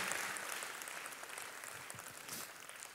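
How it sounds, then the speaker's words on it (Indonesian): Church congregation applauding during a sermon, a broad steady wash of clapping that fills the space and holds at an even level from start to finish, with no voices rising above it. "Tepuk tangannya yang paling meriah buat Yesus Tuhan kita."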